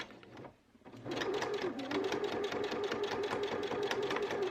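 A sewing machine stitching a seam in fabric, starting after a short pause and then running in a steady, rapid close-up whir.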